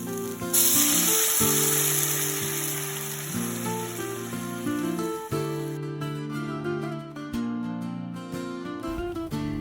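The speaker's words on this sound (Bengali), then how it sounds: "এখানে আমি গরম জল দিচ্ছি" Hot water hits frying spice paste for an egg and potato curry, giving a bright sizzling hiss that lasts several seconds under louder background music, then fades as the music continues alone.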